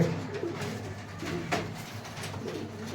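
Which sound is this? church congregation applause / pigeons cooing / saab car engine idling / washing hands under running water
pigeons cooing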